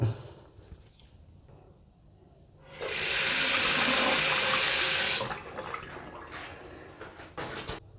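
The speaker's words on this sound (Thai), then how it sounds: "อ่าโอเคเนี่ยเดี๋ยวผมจะไปเปิดน้ำนะครับ" Water gushes loudly from a tap for a few seconds after a leaking bidet spray hose is fixed, then cuts off, leaving faint drips and small knocks in a quiet bathroom.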